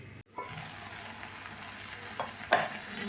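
Ground masala paste fries in a pan for vegetable kurma, giving a soft, steady sizzle with a brief pause and a couple of short clinking stirs toward the end.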